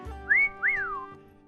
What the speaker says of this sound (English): People have noticed the moment and start to whistle and hoot.